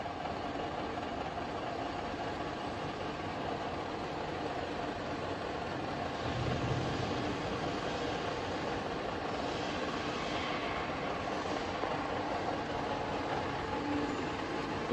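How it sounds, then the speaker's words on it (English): A SIP Hydroptic 6 jig boring machine runs its spindle at 330 rpm, a steady close mechanical hum and whir that holds evenly throughout without talk. "Speed has been increased to 330 rpm."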